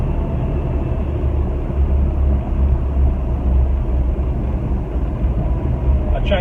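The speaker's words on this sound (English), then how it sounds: "I changed down quite slowly then from fourth to third and it didn't graunch" An Austin Mini Cooper S Mk3 on the move, its engine a loud steady rumble under continuous road and wind noise, with a downshift from fourth to third gear blending into the drone.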